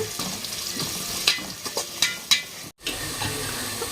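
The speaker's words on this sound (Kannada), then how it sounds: "ಉಳ್ಳಾಗಡ್ಡಿ ಕೆಂಪಗಾಗ ಫ್ರೈ ಮಾಡ್ತೀನಿ" Onions fry in oil in a pan for vegetable pulao, giving a close, continuous crackling sizzle with a few quick stirring scrapes and a momentary dropout, and no one speaks.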